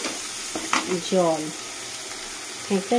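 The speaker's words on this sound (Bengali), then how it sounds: "এবার এটাকে ভালো করে নাড়িয়ে নিয়ে" Spiced shrimp with turmeric and chili powder stirred in a frying pan, a soft steady sizzle with scraping spoon strokes, while a voice talks over it.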